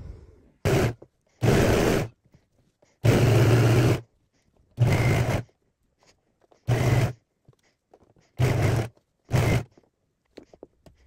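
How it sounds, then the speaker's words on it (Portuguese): An overlock sewing machine stitching a seam on suede knit fabric runs in short bursts, seven or eight whirring runs of one to two seconds separated by brief pauses, close and clear with no talk. "vou passar agora a overlock bem em cima dessa costura"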